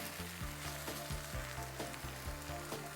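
An omelette frying in a pan gives a steady, close crackling sizzle that runs throughout, with soft melodic background music underneath.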